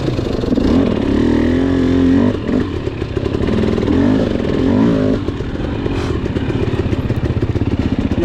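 Beta dirt bike engine revving up and down at close range, a loud continuous motor roar with rising and falling pitch and some clatter, sustained for several seconds with no talking.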